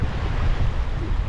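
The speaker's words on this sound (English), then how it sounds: "Wasn't supposed to be this windy today." Strong wind buffets the microphone on a lake at Myuna Bay during kayak fishing, a constant loud rushing roar mixed with water wash.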